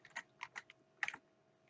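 Computer keyboard arrow keys pressed in a few quick, light taps, close and crisp in a quiet room, with no talk.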